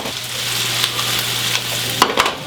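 Yellow-fleshed potato slices fry in a pan for pommes de terre lyonnaise, a steady close sizzle broken near the end by a couple of sharp clatters as they are tossed.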